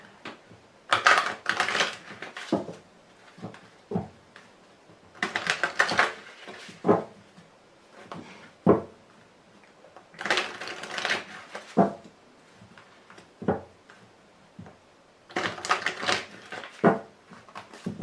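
A tarot card deck is gathered and shuffled by hand in a series of quick, papery riffling and tapping bursts, about five clusters separated by short pauses, close and fairly quiet.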